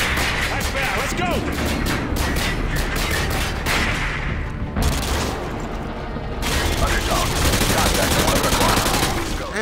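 Enemy gunfire in Modern Warfare 2 crackles in dense, rapid automatic bursts, loud and close, pausing briefly before resuming, with voices talking over the shooting.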